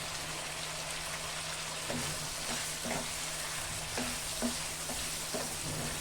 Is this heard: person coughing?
no